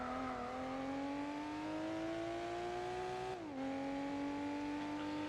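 A race car engine in Gran Turismo 4 holds a loud, steady high-pitched drone that climbs slowly, dips sharply at a gear shift, then carries on without talk.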